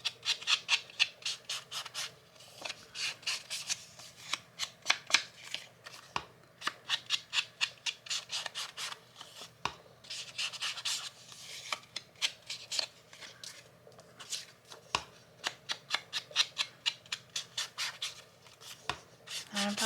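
Paper for a craft project being cut with scissors, repeated quick snips in bursts with short pauses between, close and quiet, with light handling rustle.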